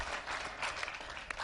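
An audience applauds at a gathering after the Boston Marathon tragedy, a faint, steady patter of clapping that fills the whole moment at a distance.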